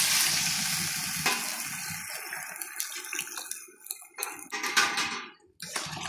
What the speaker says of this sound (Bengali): ভাজা ভাজা করে নিচ্ছি আমি